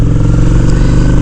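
A Honda Shadow ACE cruiser motorcycle rides along with a loud, steady low engine drone and a constant rumbling pulse, heard up close and without a break.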